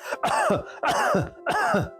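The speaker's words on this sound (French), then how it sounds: "ça, c'est une toux agressive." A person demonstrates a harsh, aggressive cough: three forceful throat-rasping bursts in even rhythm, close and loud, with short silences between.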